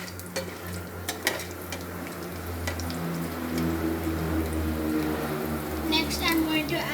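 Mustard seed mixture hitting hot oil and being stirred for Andhra-style mango rice, a steady close sizzle with scraping stir strokes and a few clinks of utensil against the pan, with talk heard over it.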